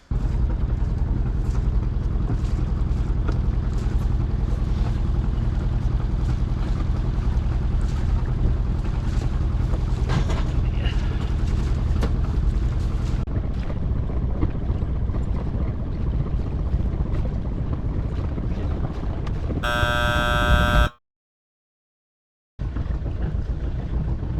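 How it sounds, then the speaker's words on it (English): A sailing boat's engine drones steadily on the Crinan Canal in Scotland, with wind rushing over the microphone, continuing for a long stretch before a short electronic tone and a sudden gap of silence. "so let's fire up the engine"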